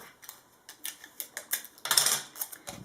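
Tape being pulled and pressed down to secure the liner inside a tall, skinny soap mold, a close series of sharp crackling ticks and rips ending in a louder burst.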